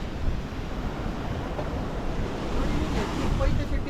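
Sea waves wash against a breakwater of shaped concrete blocks on the Pondicherry shore, making a steady, moderately loud surging hiss mixed with gusty wind buffeting the microphone.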